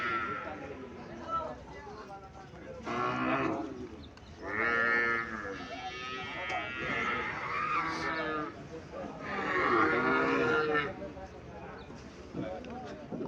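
An Indian Haryana breed cow and her calf at a cattle market give several drawn-out, resonant moos, close by and fairly loud, separated by short pauses.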